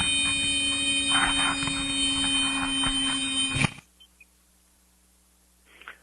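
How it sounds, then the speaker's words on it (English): A steady, loud electronic alarm tone with layered harmonics sounds continuously, then cuts off abruptly, leaving near silence with a couple of faint clicks. "The only sound, a cockpit alarm."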